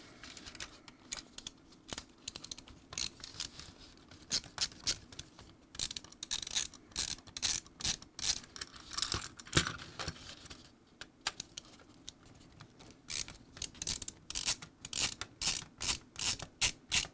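A Phillips screwdriver backs four screws out of the corners of a GE Jasco ZW4005 Z-Wave smart switch, giving close, rapid ratcheting clicks in bursts separated by short pauses, with no voices.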